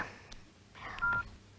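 A telephone call-waiting tone sounds during a phone call: a single short, faint electronic beep after a few soft clicks, otherwise quiet.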